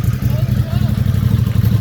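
A Kawasaki Ninja 300 motorcycle idles steadily at a Willow Springs track day with a low, throbbing rumble, loud and continuous throughout, with faint voices in the background.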